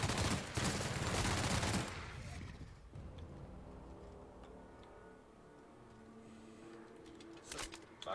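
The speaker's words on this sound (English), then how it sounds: "this is a light machine gun" A light machine gun in The Outer Worlds fires a dense, loud burst for about two seconds, then cuts off, leaving quieter ambient game sounds and a few faint distant pops.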